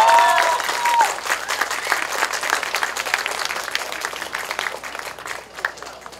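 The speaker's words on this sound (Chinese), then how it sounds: "再次掌声给我们最棒的米娜老师。" An audience at a community college end-of-term showcase applauds after a dance performance. The clapping is dense at first, then gradually thins and fades over several seconds.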